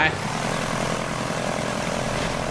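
A purple propeller airplane in the BeamNG.drive driving game drones steadily and loudly, its engine holding one continuous, even roar throughout.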